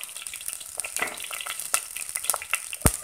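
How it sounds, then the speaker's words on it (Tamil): Shallots and garlic sauteing in sesame oil, with a soft, crackling sizzle and occasional sharp taps of a stirring spoon against the pan, near and fairly quiet. "நல்ல எண்ணெயிலேயே வதங்க விடுங்க"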